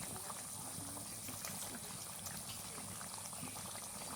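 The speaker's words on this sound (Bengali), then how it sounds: "এই দেখো ঝোলটা খুব ভালোভাবে ফুটে উঠেছে" Curry broth with pointed gourd and paneer bubbles at a rolling boil, a soft, steady, even burble heard quietly and up close with no talking.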